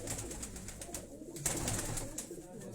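High-flying pigeons give soft, low cooing in a continuous murmur, close by and moderately loud, with no one talking.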